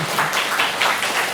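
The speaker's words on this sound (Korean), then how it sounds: "우리 환영의 박수 하겠습니다" A church congregation claps in welcome for visiting families during a Sunday revival service, brief continuous applause filling the room.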